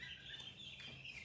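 Baby ducks peep softly with high, thin chirps, faint and close together over a brief moment with no talk.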